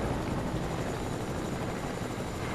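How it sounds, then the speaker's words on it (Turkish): Helicopter in the video game Fortnite: a steady, dense rotor and engine roar holding at an even level throughout, with no talk. "Helikopterimize binelim"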